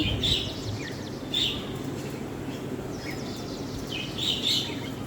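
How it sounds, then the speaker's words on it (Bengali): Several birds chirp in short bursts on a rooftop in the morning over steady low outdoor background noise, calls fairly close and repeating every second or so. "সুন্দর পাখি ডাক শোনাচ্ছি আপনাদেরকে একটু"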